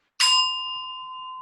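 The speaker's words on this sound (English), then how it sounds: "So I'm going to hit this chime." A meditation chime is struck once, ringing out loud and clear with a bright attack, then holding a long, pure, steady tone that fades only slowly.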